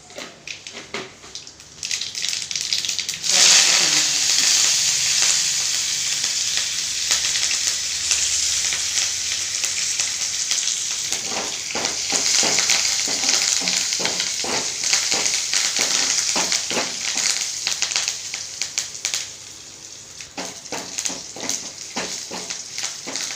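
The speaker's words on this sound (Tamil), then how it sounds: "தாளித்து கொஞ்சம் எண்ணெய் சேர்த்துக்கலாம். கடுகு ஒன்று வச்சு சேர்த்துக்கலாம்." Mustard seeds temper in hot oil, producing a loud, continuous frying hiss that swells after a few seconds, with sputtering pops and scattered stirring clatter later on, close up and without voices.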